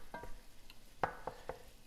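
Shrimp drop into a hot pan for shrimp scampi pizza, giving a few soft clatters and stirring scrapes over a faint, low sizzle.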